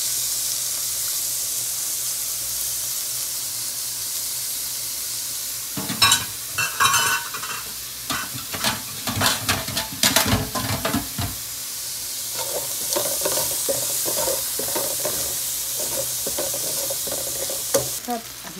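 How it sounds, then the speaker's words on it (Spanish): Onion dropped into hot oil in a paella pan bursts into a loud, close hiss after a quieter stretch, followed by busy stirring and scraping over a continuing sizzle that settles toward the end. "Vamos a echar la cebolla ahora."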